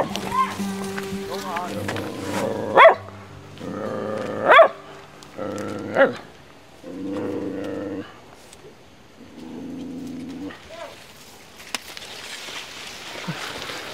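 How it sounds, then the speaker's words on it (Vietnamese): A dog at a rural Vietnamese home barks in several short, loud bursts spread across the stretch, with people talking and calling out between them. "Cô ơi xích chó đi cô ơi."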